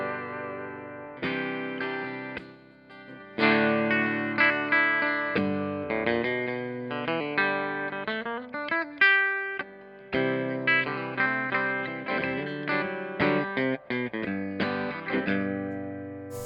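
Electric guitar strung with flatwound strings and a touch of reverb, playing a steady run of plucked notes and chords that ring and decay, close and clear with no talking.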